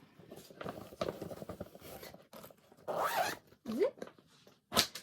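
Bag zipper pulled open in several quick rasping strokes, close and fairly loud, the longest near the end, with soft handling rustles between.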